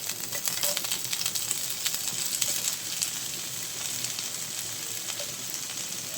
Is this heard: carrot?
yes